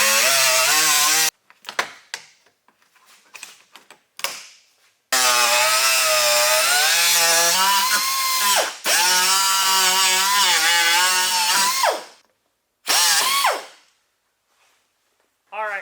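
Power tool cutting the plastic bumper trim of a Toyota 4Runner, a loud, sustained whining buzz in several long bursts with short pauses between, the pitch wavering as the blade works through the plastic.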